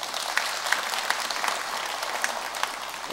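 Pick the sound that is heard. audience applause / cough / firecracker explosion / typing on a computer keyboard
audience applause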